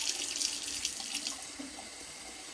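Steady rush of tap water pouring into a sink, constant and close, with a brief clunk at the very end.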